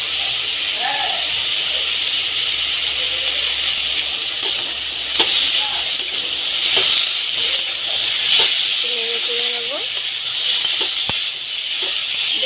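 Kudri (ivy gourd) and potatoes frying in a pan with turmeric, a steady hissing sizzle throughout with occasional clinks of stirring; a voice speaks briefly in the background.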